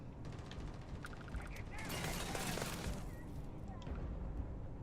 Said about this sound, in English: Are you shooting me from up above?